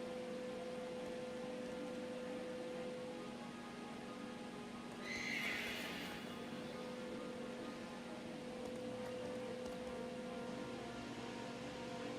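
Horse neighing in Pokémon Scarlet, a single high whinny rising briefly over a steady hum of game background sound, with no talking.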